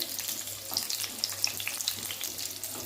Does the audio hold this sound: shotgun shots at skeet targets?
no